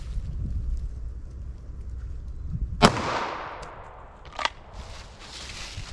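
A sharp, loud 9mm Nosler ASP pistol shot fired into a clear ballistic gel block rings out once, trailing a brief echo, followed a moment later by a softer second crack over steady outdoor background noise.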